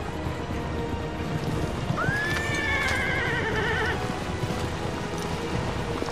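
A horse in the video game Assassin's Creed Revelations gives one clear rising whinny midway, over a steady bed of game ambience and hoof clatter, with no voices.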